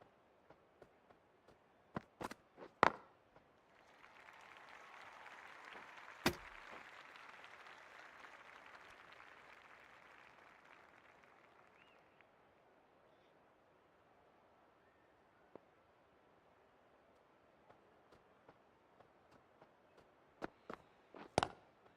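At a India versus South Africa cricket match, a crowd claps for a departing batsman in a soft, distant wash that swells and fades over several seconds, framed by a few sharp isolated knocks.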